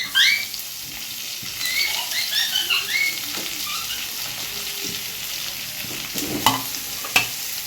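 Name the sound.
potatoes frying in a pan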